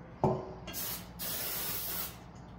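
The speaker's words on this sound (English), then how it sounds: "Some cooking spray from the dollar store, so I'm just going to" Two bursts of aerosol spray hiss up close, each lasting about half a second to a second, with a faint clunk just before.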